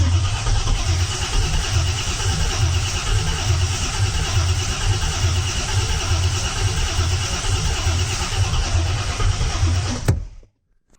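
A Rocket Bunny Toyota GT86 with a swapped LS V8 cranks and runs rough on its first start, a loud steady churning engine note for about ten seconds before cutting off abruptly.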